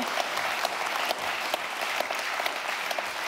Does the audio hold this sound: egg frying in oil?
no